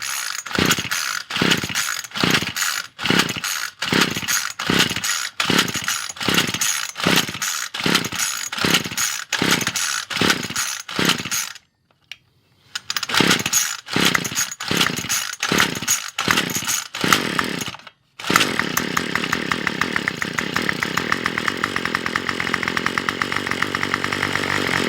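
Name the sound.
weed eater small engine started by pull cord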